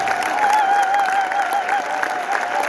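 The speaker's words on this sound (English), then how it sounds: "let's just give everyone a round of applause" A round of applause from an audience for the web crew and staff, dense continuous clapping at even volume with a sustained tonal hum running beneath it.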